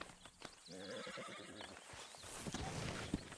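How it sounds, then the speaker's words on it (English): A horse in the Red Dead Redemption 2 video game gives a clear whinny over clip-clopping hooves, with game sounds around it. "But I do kind of like this horse."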